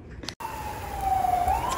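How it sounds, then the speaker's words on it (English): An ambulance or fire truck siren passes at a distance, a single wailing tone that rises and falls over steady background hum, preceded by a brief sharp knock. "there's a ambulance or fire truck going by"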